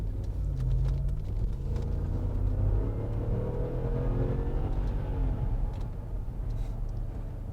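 A Range Rover Sport Supercharged with 140k miles accelerating, a steady low engine rumble building with a faint rising whir heard from inside the cabin.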